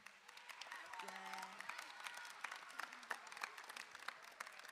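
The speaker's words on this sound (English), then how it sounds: "a round of applause for Laurel Bennett on the cajon" An auditorium audience applauds after a school concert piece featuring a cajon, dense steady clapping heard at a distance and fairly faint, with a voice speaking briefly over it.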